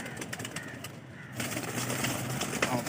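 Teddy pigeons coo in a cage, soft low calls blending with a busy background of other birds and rustling over a few seconds.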